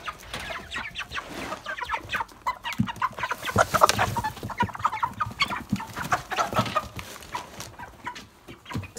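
Meat chickens cluck and squawk at feeding time, a busy, close chorus of overlapping clucks and calls running steadily throughout with no talking.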